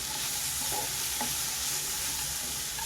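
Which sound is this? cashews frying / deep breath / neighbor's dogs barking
cashews frying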